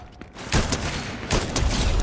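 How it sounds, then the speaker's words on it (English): Rapid gunfire in Fortnite, shooting a player out of the sky: loud, dense volleys of shots that come in clustered bursts, with the sharpest blasts landing around the middle and near the end. "I shot the guy out of the sky."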